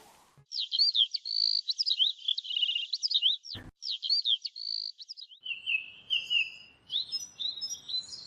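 Bright, whistling chirps and trills from myna birds close by, repeating in quick patterned phrases with a brief thump in the middle and no talking.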